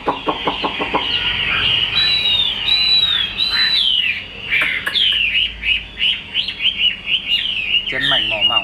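A white-winged hwamei songbird sings loud, ringing, varied phrases of whistles and rapid trills close by, continuing without pause.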